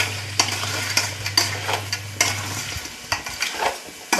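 Green masala paste being stir-fried for crab roast, a steady sizzle under repeated sharp spatula scrapes and clinks against the pan, close and fairly loud, with a low hum fading out midway.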